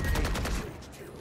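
Quick bursts of gunfire from the shooter video game Valorant, several rapid shots in the first half that fade away, with a voice faintly underneath.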